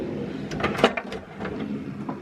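A drawer in a small apartment kitchen slides and knocks, with a run of soft, close scrapes and light clicks, one sharper bump, then quieter handling noises.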